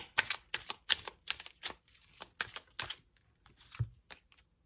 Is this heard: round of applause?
no